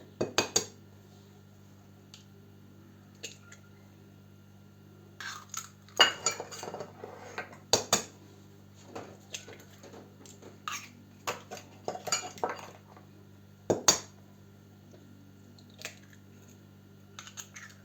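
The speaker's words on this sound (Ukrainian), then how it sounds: "Даємо і вбиваємо сюди три яйця." Three eggs are cracked into a well of dough for a honey and prune cake, with sparse, quiet clicks and taps of shell against the bowl, then light scraping and clinking as the mix is worked, no talk over it.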